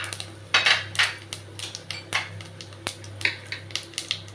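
Panch phoron spices go into a hot pan while cooking lau moog daal. Close metallic clinks and scrapes of a utensil against the pan repeat irregularly over a faint steady background hum.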